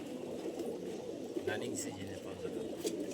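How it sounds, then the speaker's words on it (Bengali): Army-panel racing pigeons, last season's long-distance race birds, coo in a loft with soft, low repeated calls beneath steady background noise and faint chatter. "এই যে দেখেন আর্মি প্যানেলের কবুতর"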